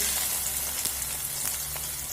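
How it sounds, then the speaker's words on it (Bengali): Two medium chopped onions fry in hot oil over dried red chilli tempering, giving a steady, close, broadband sizzle with a few light clicks, no talking. "এবার এখানে দিয়ে দেব মিডিয়াম সাইজের দুটো পেঁয়াজ কুচি"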